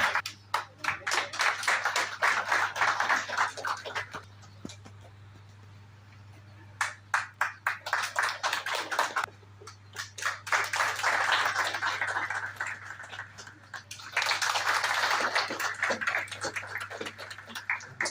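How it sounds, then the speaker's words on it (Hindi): Scattered hand clapping from a small audience at a town celebration honouring Gandhi and Lal Bahadur Shastri in Sitapur, coming in bursts that fade and resume, over a steady electrical hum. "तालियों में कंजूसी न करें कृपया।"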